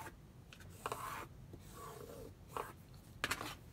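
A marker or pencil draws a line along a ruler on fabric for a pleated mask, soft scratchy rubbing strokes in short bursts, close and quiet.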